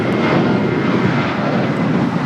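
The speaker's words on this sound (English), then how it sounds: "Got that Green Air Cargo 777 going to be taken off" A Green Air Cargo Boeing 777 roaring through its takeoff at LAX, a loud, continuous broadband jet engine rumble held steady without pause.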